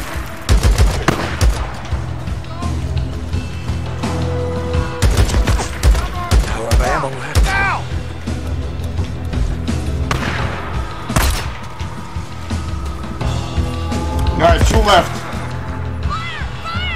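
Rapid bursts of gunfire from the video game Days Gone, with repeated loud shots and thuds spread across the scene, mixed with game sounds and some talking.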